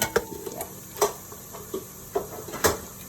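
Spoon stirring a mix of coriander powder, red chili powder, salt and turmeric for butter chicken, a few soft scraping clinks at an uneven pace, close and quiet.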